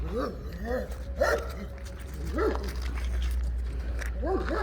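A dog whines and yelps in high, rising and falling cries, heard close over a steady low rumble while people talk nearby.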